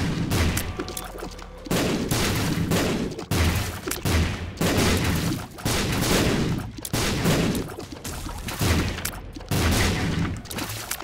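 Loud explosions in the video game The Binding of Isaac Afterbirth+ burst in a steady series, roughly one every second or so, each a booming crack over continuous rumbling battle noise.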